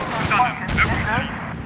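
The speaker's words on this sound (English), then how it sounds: "This guy gets hit, and you can hear him pop some smoke." Burst of combat noise in a Combat Mission World War II tank battle as a struck tank pops its smoke dischargers, a dense crackle of gunfire-like bangs over a steady rumble, fairly loud and continuous.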